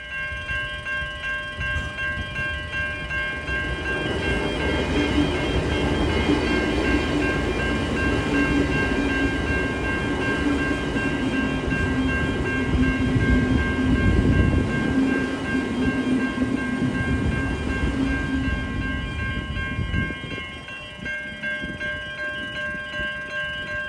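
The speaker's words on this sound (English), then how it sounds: "While I was filming this, a train came past, so I'll let you enjoy that." A train rumbles past nearby outside Melton Station, a loud sustained roar with rhythmic wheel clatter and a steady tonal whine that fades out near the end.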